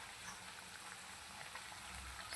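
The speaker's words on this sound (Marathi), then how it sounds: "छान आता उकळी येऊ देऊ आपण छान उकळी आली" Momo chutney sauce with sugar and salt bubbling at a steady boil in a pan, a continuous soft crackle of popping bubbles with low burbling, fairly quiet and close, no talking.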